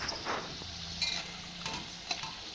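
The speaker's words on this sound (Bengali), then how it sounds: "পকোড়াগুলো আমার ভাজা হয়ে গেছে, এবার আমি থালায় তুলে নিচ্ছি।" Pakoras frying in hot oil give a steady soft sizzle, with light stirring and utensil clicks in a quiet kitchen and no talk.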